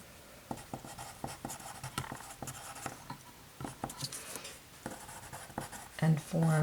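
Pencil or marker scratching steadily across a page while a geometry theorem is written out, a close, dry run of short strokes and taps with small pauses, a voice briefly heard near the end.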